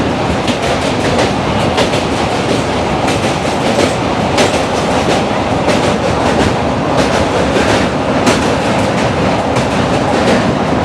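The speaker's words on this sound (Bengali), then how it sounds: "হাওড়া স্টেশন থেকে সকাল 10:25 কবিগুরু এক্সপ্রেসে চেপে দুপুরবেলা আমরা পৌঁছলাম তারাপীঠে।" The Kabiguru Express running from Howrah fills the space with a loud, continuous rumble, wheels clicking rhythmically over rail joints throughout, with no voices.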